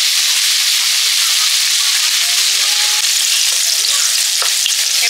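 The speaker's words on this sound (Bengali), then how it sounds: "নুন মাখানো উচ্ছেগুলো তেলে হলুদ দিয়েছি, দিয়ে ভেজে নিচ্ছি" Salted bitter gourd pieces frying in oil with turmeric, a loud, dense, unbroken hiss of sizzling oil close up, with a faint tap partway through and no speech.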